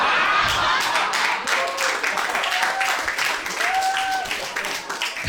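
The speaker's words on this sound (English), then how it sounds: "you guys all clap because you're like, he's making a very salient point" Comedy show audience applauding, a dense burst of many hands clapping at a steady loud level, with a few cheers and whistles mixed in, continuing throughout.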